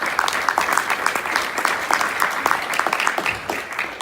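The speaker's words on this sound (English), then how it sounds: "These 3 ladies deserve a massive round of applause" Audience at an Ironman Maastricht triathlon press conference applauds three women triathletes, a dense steady patter of many hands clapping at close range with a few sharper claps standing out, no talking.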